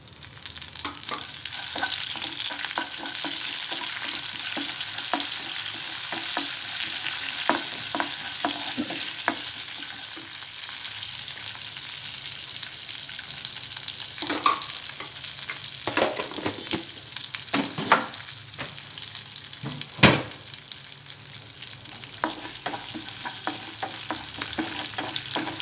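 Mustard seeds, cumin, chana dal, dried red chillies and curry leaves fry in hot oil for a coconut tomato chutney tempering, a steady close sizzle with frequent crackles, pops and spoon scrapes, louder bursts near the end, no talking.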